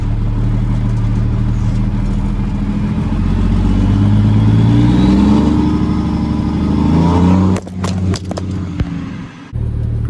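Ford L9000 truck with a Cummins L10 diesel engine driving: a loud, close engine drone rising and falling through gear changes, then a few sharp clunks and rattles near the end, with no talking.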